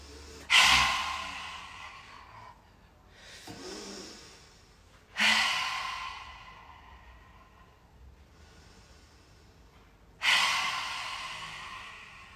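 Deep breathing during a qigong session: three strong, close inhalations or exhalations spaced about five seconds apart, each swelling and fading, with softer breaths in between and no talking.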